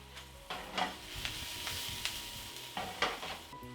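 Onions sizzle in olive oil in a pan for a beef curry stir-fry, a soft steady fry punctuated by several louder scrapes and clinks of stirring, quiet and close with no talking.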